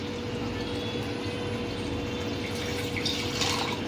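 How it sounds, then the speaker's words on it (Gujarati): Steady watery rushing and trickling throughout as water is drained from soaked rice flakes, continuous and close with a faint splashy texture. "એનું પાણી કાઢી નાખશું આપણે"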